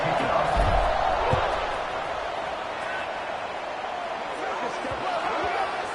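College football crowd at Old Dominion versus Arkansas State roars steadily in a large stadium before the kickoff, a broad sustained wash of cheering with a few deeper thumps early on, under a commentator's voice.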